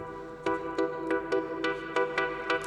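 Analog Lab preset synthesizer chords enter in short rhythmic stabs, about seven evenly spaced hits over a steady held tone and faint background noise, with no talking.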